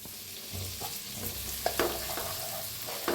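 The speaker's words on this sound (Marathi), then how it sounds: "गॅस कमी करून मसाला भाजा आता मसाला चांगला भाजायला लागलाय" Masala with red chilli powder roasting in a pan over lowered heat, a soft steady sizzle broken by a few sharp stirring clicks and scrapes of a spoon, no talking.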